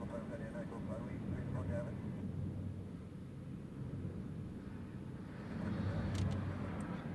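A Ryanair jet at Newcastle Airport during Storm Eowyn gives off a steady, broad roar of engines mixed with storm wind. The roar swells louder toward the end.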